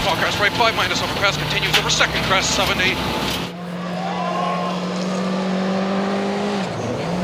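A rally car engine drones steadily on a high-speed special stage near a town at the 2015 Rallye Défi, a sustained mid-distance tone under a few shifts in pitch, following several seconds of someone narrating.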